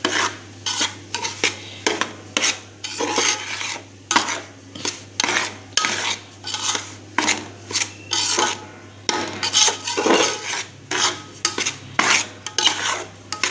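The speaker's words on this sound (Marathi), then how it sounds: "तो चांगला हलवून आपण भाजून घेऊया" Semolina (rava) is stirred and roasted in a pan with a spoon, scraping and rubbing against the metal in a steady repeated rhythm, close and fairly loud, without talk.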